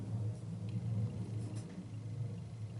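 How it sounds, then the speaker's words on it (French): A distant airplane passes overhead as a steady low rumbling drone, continuous and fairly faint, with no talk. "Mon Dieu, j'en ai marre de ces avions."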